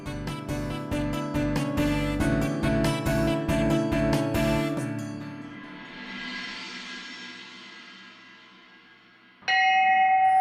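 Temple bell struck repeatedly in a quick ringing series with long metallic decay, then a fading ring, followed by a sudden louder tonal chime near the end.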